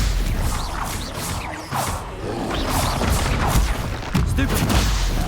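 A Stupefy spell cast in Hogwarts Legacy, a dense run of bursting, whooshing magical blasts with crackling impacts amid busy game combat noise, continuous and fairly loud with no clear pauses.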